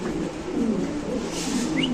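White King pigeons coo steadily and fairly loudly, their throaty calls rolling on without a break and with no talk over them.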